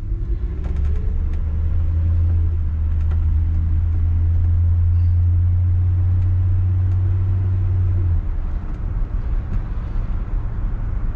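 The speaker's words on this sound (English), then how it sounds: "I just like to warm the car up, you know." A 1966 Ford Galaxie 500 convertible's engine warms up at idle, a steady low rumble holding for about eight seconds before easing off, close and continuous with no talk.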